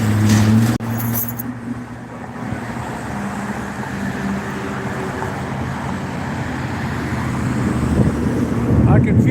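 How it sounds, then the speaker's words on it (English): West wind blowing outdoors just after sundown, a loud, steady rush of gusts buffeting the microphone with deep rumbling that swells slightly toward the end. "I can feel that west wind whipping."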